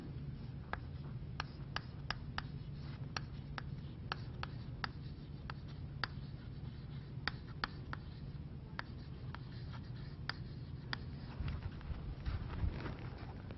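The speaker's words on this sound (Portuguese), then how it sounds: "Vou escrever isso aqui." Chalk or marker tapping and scraping across a board while a diagram is drawn during a math lesson, a steady series of short ticks and strokes over a constant low room hum, with no talking.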